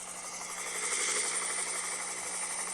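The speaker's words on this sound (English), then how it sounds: "Watch out, here comes the chopper cam." A chopper camera drone hovers and passes overhead at a national 9-ball pool championship, giving a continuous high-pitched rotor whine that swells slightly and then holds steady, with no talking.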